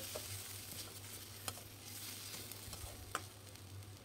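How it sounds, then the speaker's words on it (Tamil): Onion and tomato softening in a pan for a radish dal kootu give a faint, steady sizzle close by, with a few soft stirring clicks and no talking. "இப்போ வெங்காயம் தக்காளியும் நல்லா வதங்கட்டும்"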